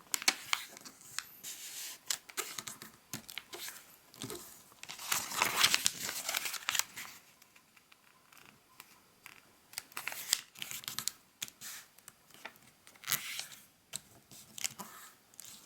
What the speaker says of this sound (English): we're going to fold it in half on the coloured side.